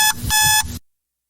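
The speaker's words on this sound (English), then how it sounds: "That was my alarm clock." An alarm clock rings in two loud, close bursts of electronic beeping with a short gap between them, then cuts off into silence.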